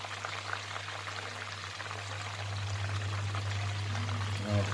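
Chicken in pineapple juice and soy sauce simmers gently over low heat, a soft continuous bubbling and faint sizzle with a steady low hum throughout, no voices.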